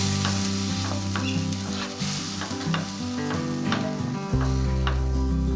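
Tomato puree sizzles loudly in a pan for a restaurant-style malai kofta gravy while a spoon stirs and scrapes through it, over steady background music with no talking.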